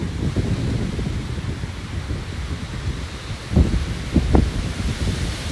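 Very strong wind blowing at a cottage on a sunny day in the garden, a steady loud roar of gusts buffeting the microphone, with a couple of sharper thumps from stronger gusts.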